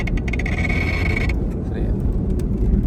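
A BMW 320i engine revving up in a workshop with an odd noise under acceleration, a loud steady engine roar with a high whine that cuts off partway, while people talk over it.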